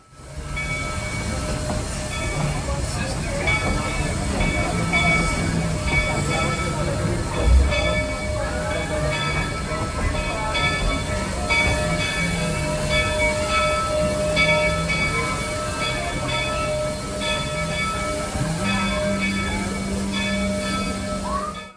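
Narrow gauge steam train riding the Georgetown Loop Railroad over the Devil's Gate Bridge toward Silver Plume, a steady rumble of wheels and cars rolling on, with faint bell-like tones and a brief thump, with people talking quietly in the background.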